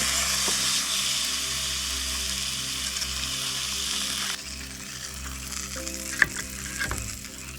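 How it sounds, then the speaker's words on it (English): Salmon fillet sizzling in a hot pan at a remote north woods canoe campsite, a strong bright frying hiss that drops somewhat in level midway, with a low steady hum underneath and a couple of faint clicks, no voices. "we're gonna get a nice sizzle when I lay this salmon fillet down on this pan"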